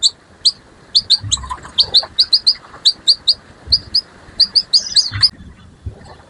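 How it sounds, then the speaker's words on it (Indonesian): A male canary in heightened breeding condition chirps in quick, bright, repeated notes close by, in irregular bursts with brief pauses, loud and clear over faint background noise. "bagaimana melakukan perawatan untuk kenari jantan yang over birahi"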